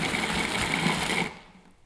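A food processor whirs steadily while blending an apple pumpkin energy ball mixture, a loud continuous motor drone that cuts off near the end and leaves quiet.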